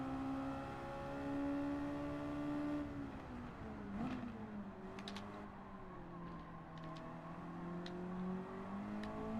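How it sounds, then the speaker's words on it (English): A small two-litre four-cylinder car engine in the racing game Gran Turismo 7 hums and revs up and down in a steady whine, shifting pitch as it accelerates, with no talking. "I do love the sound of this little car."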